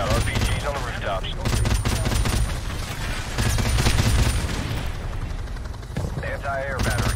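Rapid machine-gun fusillades from a Call of Duty battle, fired from a moving vehicle, with helicopter drone and bursts of gunfire running loud and continuous under excited talk.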